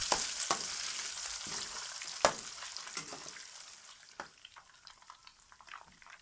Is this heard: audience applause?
no